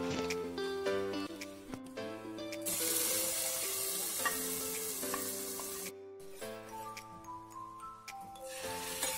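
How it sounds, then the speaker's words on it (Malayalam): Mustard seeds and shallots fry in hot oil for a curry tempering, a steady sizzle with crackling that sits under louder melodic background music throughout. "കടുക് പൊട്ടിച്ച് ചെറിയുള്ളി നന്നായിട്ടൊന്ന് റോസ്റ്റ് ചെയ്തെടുക്കാം"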